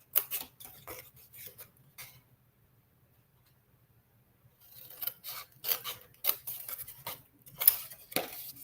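Scissors snip along score lines in paper for a Halloween craft, a close series of quick crisp cuts in two bursts separated by a few seconds of quiet.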